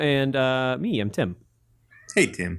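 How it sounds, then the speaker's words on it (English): A house cat meows in the background while a caller and hosts talk over a phone line during a gaming podcast call-in segment; the meow is brief and sits under the conversation. "Is that a cat?"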